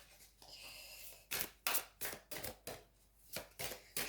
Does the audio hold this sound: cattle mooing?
no